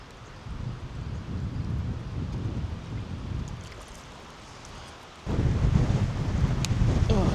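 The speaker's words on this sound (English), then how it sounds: "Hopefully that wind goes away for this evening." Wind gusts across a microphone beside the Murrumbidgee River, a low rumbling buffet that rises and falls, eases briefly and then comes back in a stronger, louder blast near the end.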